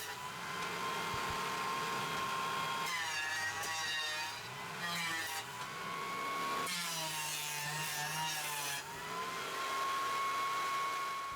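A wood jointer squares rough hardwood pallet runners in two long cutting passes that rise over the machine's steady motor hum, then fall back to the idling whir.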